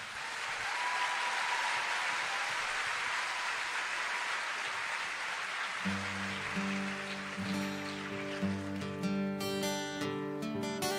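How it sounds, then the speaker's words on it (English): Audience applause greets a band at a live Save Soil event in Brussels, a dense wash of clapping that continues as the band begins playing tonal music partway through. "Please give them a round of applause."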